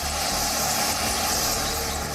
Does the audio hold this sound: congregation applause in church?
no